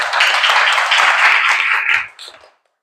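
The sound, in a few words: classroom applause for Maudi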